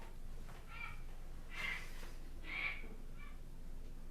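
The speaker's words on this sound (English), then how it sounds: "It definitely is a bird. It's not one I've personally heard before, but it sounds like it could be an auk." An unfamiliar bird calls in four short, faint, separate cries spaced about a second apart against quiet background hiss.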